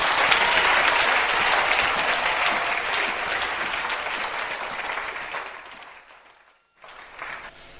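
A church congregation bursts into loud sustained applause and cheering that slowly fades, cuts to near silence, then a short renewed ripple of clapping follows.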